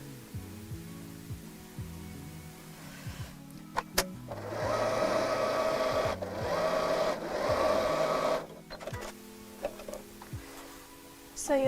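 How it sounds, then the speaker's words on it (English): A sewing machine stitches a lining piece onto a tote bag made from a cushion cover, running in a steady close whir for several seconds between short stops and fabric handling noises. "I'm going to sew that right sides together on top of the bag"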